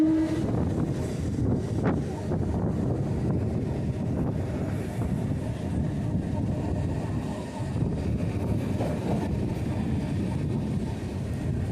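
A local train runs along the main down line on the route from Fuleswar to Maurigram, giving a steady, continuous rumble with wind buffeting the microphone throughout and no talk.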